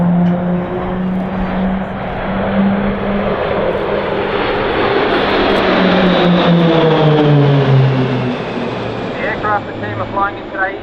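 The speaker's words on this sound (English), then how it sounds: "Flying in today is the Pilatus PC-9 training aircraft." Pilatus PC-9 propeller training aircraft passing overhead at an RAAF air display, a loud droning engine with a descending pitch as it flies past, with faint speech beneath.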